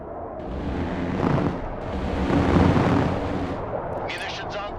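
Close air support strike in the video game Broken Arrow, a loud sustained roar of jet engines and heavy rolling explosions swelling and fading across the whole stretch, with a whistling high tone near the end.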